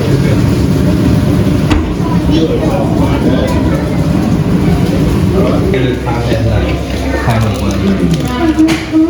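A loud, low rumble of a passing train runs throughout, with people talking close by over the engine noise.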